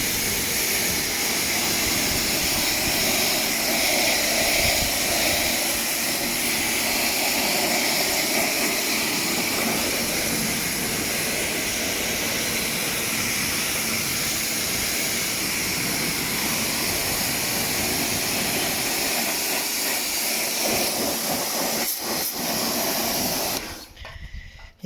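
A pressure washer fitted with an orange lance blasts steady, loud hissing spray onto a BMW E46 330Ci Clubsport wheel covered in brake dust, running continuously before cutting off at the very end.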